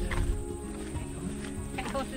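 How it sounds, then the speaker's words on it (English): Hooves of an arriving pack horse clip-clop outdoors in New Zealand, moderately near, mixed with people talking and background noise. "Pack horse is here."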